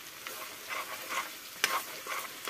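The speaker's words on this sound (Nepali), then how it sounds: "यतिको फ्राई हुँदैछ" Meat frying with ground spices in a pan on a stove, a soft steady sizzle with faint stirring scrapes and a brief sharper crackle partway through.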